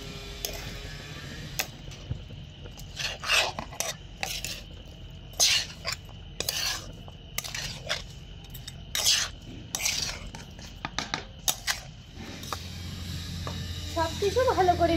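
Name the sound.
mixing vermicelli with salt and sugar in a pot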